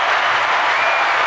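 A brief burst of steady applause from an audience at a Hong Kong Business Association of Nevada gathering, loud, dense and continuous, with no talking over it.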